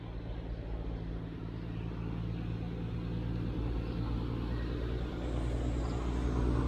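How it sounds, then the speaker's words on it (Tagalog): A car approaching on a hillside road near a cemetery, its engine rumble low and steady at first, then growing slightly louder as it nears, with no talking. "may sasakyan dumarating"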